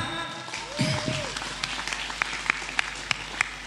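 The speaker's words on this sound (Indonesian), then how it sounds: "Tepuk tangan." Audience applause in a school-setting talk show in Kalimantan, a dense crowd clapping that swells and holds steady, with scattered sharper claps standing out and a brief voice underneath.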